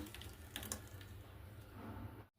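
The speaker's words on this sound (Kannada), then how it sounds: "ಇನ್ನೊಂದು ಸ್ವಲ್ಪ ಇಲ್ಲೇ ಜಾರ್ ತೊಳೆದು ನೀರು ಹಾಕ್ಲಿಕ್ಕತ್ತೀನಿ." Tap water runs steadily into a grinder jar as it is rinsed in a kitchen while chutney is being made, a continuous close splashing flow lasting a couple of seconds before stopping abruptly.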